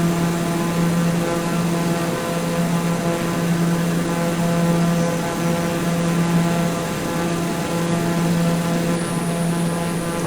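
Propeller airplane engine drones steadily during the climb after takeoff from Kathmandu on a flight toward Lukla, a loud, even cabin hum with sustained tonal whine and no talk.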